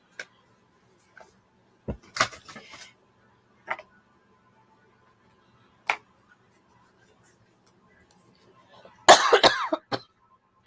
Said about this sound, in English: I just realized I totally